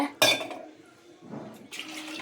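Water splashes and pours into a pot of soaked lentils for cooking in a home kitchen, a close burst of pouring that pauses, then resumes with a steady trickling fill.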